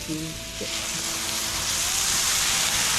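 Bratwurst steaming and sizzling on a grill at medium heat with beer, onions and sauerkraut, a steady broadband hiss of frying that holds loud and even throughout, with a brief voice near the start.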